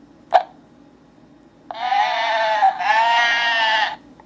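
A goat bleats in the Game.com video game Henry, one short click followed by a long, loud, wavering electronic bleat split into two parts.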